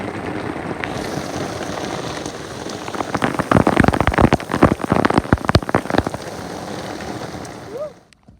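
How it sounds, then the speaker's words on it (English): Heavy rain pouring onto a sailboat, a steady close hiss of drops on deck and rigging with a burst of louder, denser splattering in the middle before it eases off. "It's been pouring rain for the last hour or so."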